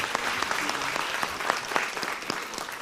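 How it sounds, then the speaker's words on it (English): Applause from the audience at the OECD Forum 2017 in Paris greets a speaker, a continuous, even sheet of clapping with distinct individual claps popping through for the whole moment. "Could you give a big round of applause to Susan Greenfield?"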